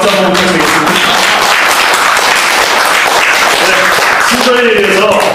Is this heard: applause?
yes